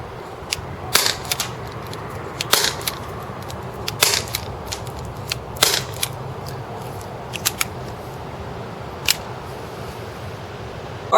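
Marushin Cop .357 airsoft revolver fired double action, giving sharp isolated snapping shots spaced a second or more apart, roughly eight cracks over quiet room noise.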